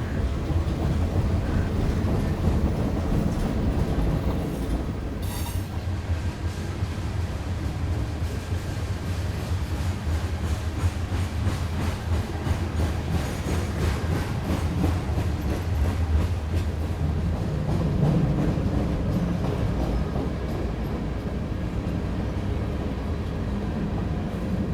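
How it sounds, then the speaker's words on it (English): A long freight train rolling past on a mountain subdivision, a continuous loud rumble and clatter of wheels and cars that stays steady throughout with wind buffeting the microphone. "The longer freight trains are the norm here on this subdivision."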